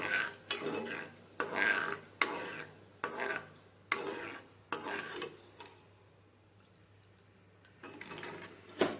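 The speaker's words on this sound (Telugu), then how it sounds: "ఈ షాజీరా, అది బ్లాక్ కలర్ వేసేసి కొంచెం అట్లా వేయించుకోవాలి." Black cumin (shahjeera) being fried in a pan for paneer butter masala, heard as a run of close, regular scraping and stirring strokes that pause for a couple of seconds before starting again.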